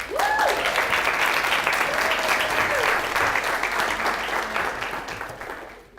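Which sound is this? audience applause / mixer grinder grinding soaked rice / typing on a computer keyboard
audience applause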